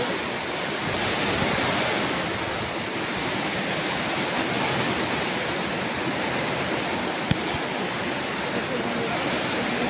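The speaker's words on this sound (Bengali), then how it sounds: "দেখো কত বৃষ্টি" Heavy rain pours down in a steady, dense roar, with gusting wind mixed in. There are no pauses and no voices.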